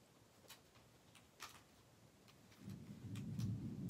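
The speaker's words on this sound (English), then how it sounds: "Oh, there's the thunder." Distant thunder rumbles up low and grows into a rolling swell in the last second, with faint ticks and light clicks scattered over a quiet background.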